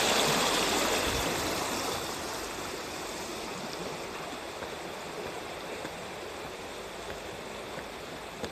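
A clear river stream flowing over rocks at a bowl-shaped river pool in Yamaguchi, Japan; a soft, continuous rushing wash, a little louder at the start and then steady and fairly quiet.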